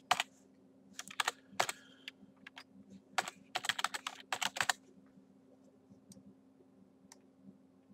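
Keys clatter on a computer keyboard in short bursts of quick typing, a folder name being entered, crisp and close in a quiet room with a faint steady hum beneath and no talking.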